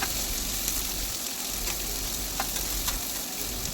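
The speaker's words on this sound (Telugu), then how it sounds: "ఉల్లిపాయలు పచ్చిమిరపకాయలు వేసేసుకోవాలి ముందే కట్ చేసి పెట్టుకున్నాను చూపించే కదండి ఇలా మంచిగా కలిపేసుకోవాలి" Chopped onions and green chillies fry in a pan with a steady close sizzle while a spoon stirs them, adding faint intermittent scraping clicks.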